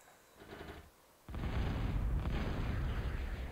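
Missile towers fire at the sea in a strategy video game: a softer rumble first, then a sustained, heavy barrage of booming, crackling blasts that carries on without a break.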